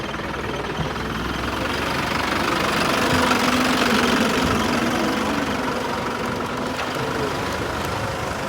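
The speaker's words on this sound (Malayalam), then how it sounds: "ഇതുപോലെ ട്രാക്ടർ വരുന്നു, ട്രാക്ടറിൻ്റെ ബാക്കിൽ കയർ വെച്ചിട്ട് ആ വള്ളം വലിച്ച് കയറ്റുന്ന ഒരു വിഷ്വൽസാണ് സാധാരണ" A tractor at Poonthura beach in Kerala hauls a fishing boat ashore by rope, its engine knocking and rumbling loudly and steadily close by, swelling slightly midway.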